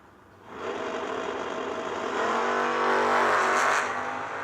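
Drag racing cars, one of them a Camaro, roar down the strip at a Yellow Bullet Nationals event, a steady engine drone building in intensity and lingering, heard from a distance without any talk.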